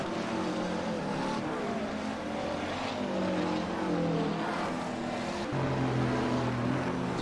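A McLaren GT3 race car engine drones at Silverstone in a sim racing game, a continuous loud engine tone with rising and falling pitch as gears change, overlapping other cars.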